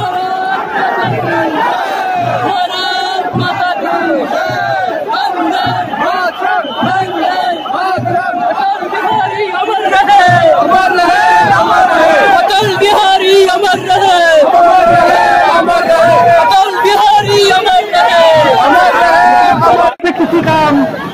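A huge crowd at Atal Bihari Vajpayee's funeral procession in Delhi roars and chants continuously, with dense overlapping voices that swell louder halfway through.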